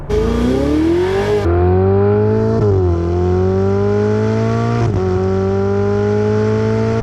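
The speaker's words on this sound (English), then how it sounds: "it's got a fairly muted deep tone because of course this is a turbo car" A Ferrari 488 GTB sports car engine revs loudly up close, its deep, muted turbo tone rising and dipping through several throttle changes.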